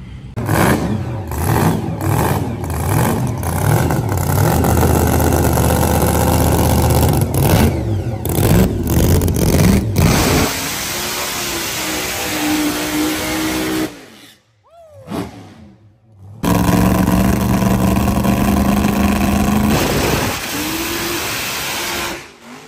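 A nostalgia funny car roars through a drag racing pass at a test and tune session, a loud sustained engine blast with rapid pulsing, then a long fading drone, a brief drop and another loud run of engine noise.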